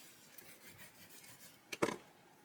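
Cardstock burnished onto a Kmart recipe album cover, a short close rub with a brief rasping scrape standing out against a quiet room.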